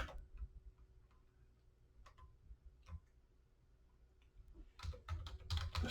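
Computer keyboard typing during a college course assignment demonstration, scattered soft keystroke clicks that thicken into quicker bursts near the end, quiet with no speech.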